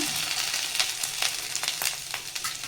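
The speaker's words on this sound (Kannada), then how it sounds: "ನಾನಿವಾಗ ಇಂಗ್ರೀಡಿಯೆಂಟ್ಸ್ನ ಫ್ರೈ ಮಾಡ್ಕೊಳ್ಳೋದಕ್ಕೆ ಇದೇ ಪ್ಯಾನ್ಗೆ ಸ್ವಲ್ಪ ಬಟರ್ ಹಾಕ್ಕೊಂಡ್ಬಿಡ್ತೀನಿ." Ingredients frying in butter in a pan for paneer butter masala, a bright, continuous hiss broken by repeated crackles and spatula scrapes, close and steady with no talking.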